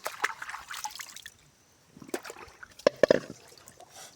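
Water trickles and splashes in short bursts as someone bathes outdoors, with small close drips and sloshes separated by brief pauses.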